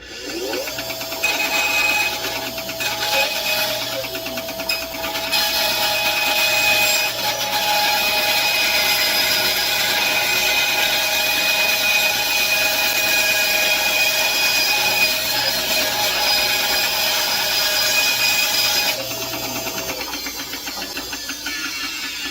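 Power planer running steadily on wooden boards being flattened for a bass guitar body, a loud continuous machine whine with rough cutting noise that holds for about seventeen seconds before winding down.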